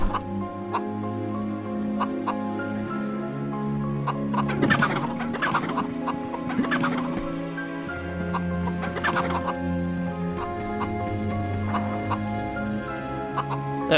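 Chickens in the MediEvil video game cluck in short scattered bursts over looping game music, a few quick clusters of clucks in the middle, with no talking.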